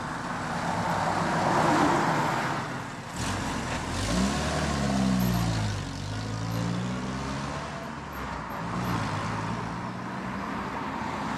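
A little Hillman car revs and then pulls away at a car meet, a steady engine drone that rises and falls as it accelerates off, fairly loud and close, with no one speaking.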